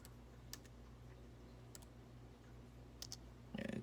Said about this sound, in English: I'm typing in my monthly summary notes for the month.